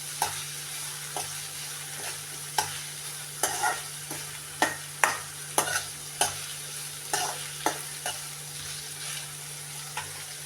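Cabbage stir-fry cooking in a pan on a home stove, with steady soft sizzling and regular scraping strokes of a spatula stirring roughly every half second, close and alone with no voices.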